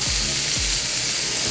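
Chopped carrot and sweet onion dropped into hot oil in a frying pan, a loud steady sizzle right up close, with a couple of low thumps as the vegetables land.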